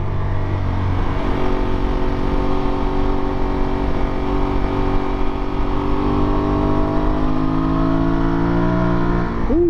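Aprilia Tuareg 660 motorcycle accelerating hard out of a corner on a highway, its engine note climbing steadily with a quickshifter gear change near the end, loud and close throughout with no talk.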